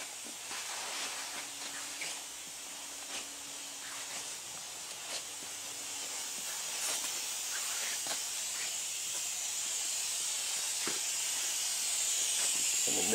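A paint spray gun applying candy paint coats to a third-generation Chevy Camaro IROC-Z28, a continuous airy hiss that builds slightly louder toward the end, with a few faint clicks and brief tones in the background.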